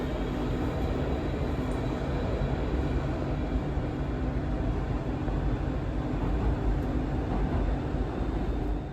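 A Rotterdam metro train running between Rijnhaven, Maashaven and Zuidplein, a steady loud rumble of wheels and motors with constant rolling noise throughout, no speech.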